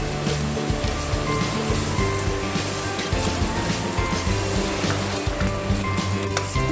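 Yogurt poured gradually into hot, oil-separated besan gatte gravy and stirred without pause, giving a steady close sizzle and bubbling with scraping from the stirring, continuous and loud throughout.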